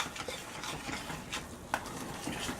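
Turmeric being stirred into yellow rice in a pot, soft repeated scraping and stirring strokes with a faint sizzle and one sharper clink near the end.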